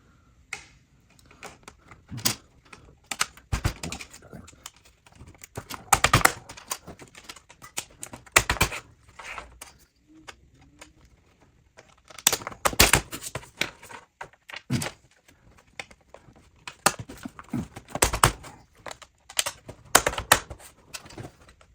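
Plastic raceway pieces for a Traxxas Mini Maxx charging station snap together in bursts of sharp, close clicks and clacks, irregular clusters separated by short quiet gaps.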